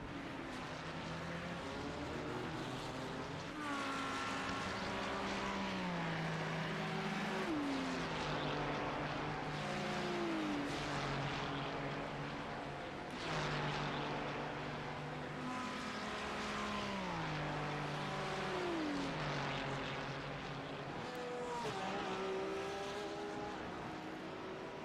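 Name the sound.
Ferrari and BMW GT3 race cars battling in sim racing game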